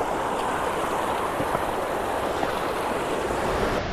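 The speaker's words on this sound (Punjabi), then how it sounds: "ਉੱਪਰੋਂ ਪਾਣੀ ਆਉਂਦਾ, ਠੰਡਾ ਪਾਣੀ ਆ।" Cold mountain stream water rushing down from Shivkund along the Manimahesh Yatra trail, a loud, dense and unbroken roar of flowing water close to the listener.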